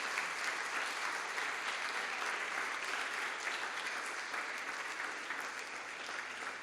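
A church congregation applauding: dense, sustained clapping from many hands that fills the room at an even level throughout.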